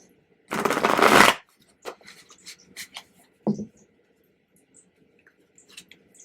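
Tarot cards get a brisk riffle shuffle, close and loud for just under a second, followed by scattered soft taps and shuffles of the cards being handled.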